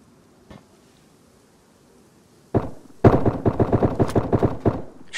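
Gunfire in the video game DayZ: one faint distant shot, then a loud shot and a rapid burst of about a dozen close, evenly spaced automatic rounds.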